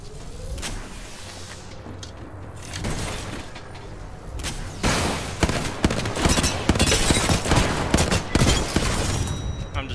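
Gunfire in the video game Apex Legends, dense bursts of rapid shots and impacts crackling close and loud, growing heavier in the second half with no talking.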